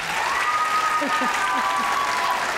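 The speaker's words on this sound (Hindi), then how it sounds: "आंटी के लिए तालियां होनी चाहिए यार" A short burst of studio audience applause on a comedy talk show, dense clapping from a crowd, with a few faint voices mixed in.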